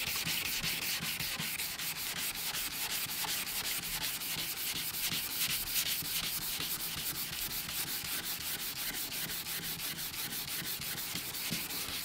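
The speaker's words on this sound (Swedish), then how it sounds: "Så slipar vi bort. Och så är det bra också att slipa lite så här i kryss." A car headlight lens being hand-sanded in crisscross strokes gives a steady, close scratchy rubbing that runs evenly and alone throughout.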